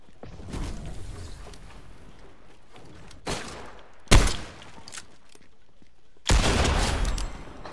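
Gunfire in Fortnite: several separate bursts of shots, some sharp and loud, others softer, with quiet gaps between them and a final sustained volley near the end.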